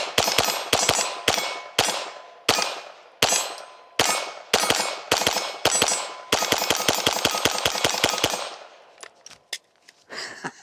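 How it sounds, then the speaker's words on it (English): A Taurus RPC pistol fires at a shooting range in a long string of sharp, loud shots, spaced at first, then coming in quick succession before stopping, followed by faint metallic clinks. "I'm gonna go back to shooting"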